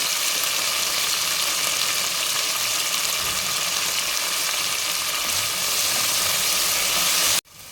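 Fenugreek leaves frying in oil for a methi chicken curry make a dense, constant sizzle up close, which cuts off abruptly at the very end.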